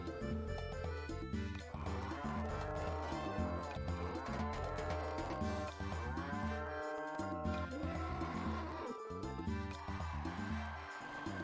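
A cow moos repeatedly in the Harvest Moon: Sunshine Islands farming video game, the drawn-out lows sitting over steady looping background music with no gaps.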